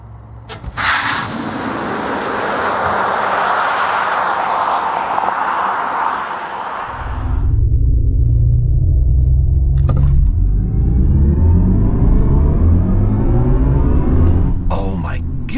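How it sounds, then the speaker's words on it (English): A 544 hp BMW i4 M50 electric car launches hard on a country road, first with a loud broadband roar, then a deep rumble and a rising electric motor whine that climbs steadily as it accelerates. "let's do a launch control on the country road, see how fast this goes"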